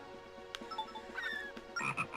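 Frog croaking in Zelda: Phantom Hourglass, a series of chirpy, warbling croak calls in short bursts, clear and close, with no talk.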